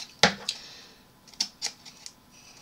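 Scissors snipping through cardboard while making an upcycled orange-box craft, a few crisp separate cuts, one sharp snip followed by several lighter clicks, fairly quiet and close with no talking.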